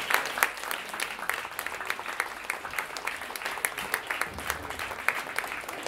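An audience claps at a live jazz trio concert to welcome a double bass and guitar player, with sustained dense applause at close to moderate distance.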